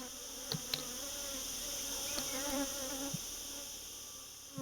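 Dense, steady buzz of honeybees rising from the center of an opened brood box during queen cell introduction in Malta, a continuous close hum with a few brief knocks and handling clicks and no speech.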